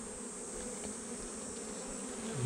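Honey bees buzz around an open hive with brood frames during a honey super inspection, a continuous soft, faint hum of many insects with no talk.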